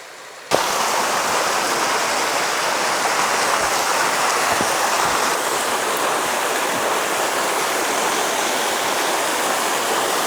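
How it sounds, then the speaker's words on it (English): Waterfall and babbling brook in Montana wilderness near the Bob Marshall area, a dense, loud continuous rushing roar of falling water that starts abruptly after a brief quiet moment and holds steady. "The waterfall starts just below the apex of the sky right there."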